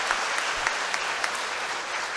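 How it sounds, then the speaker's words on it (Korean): A church congregation breaks into warm welcoming applause, a dense, steady clatter of many hands clapping throughout, moderately loud and filling the room. "환영의 박수 좀 쳐주십시오"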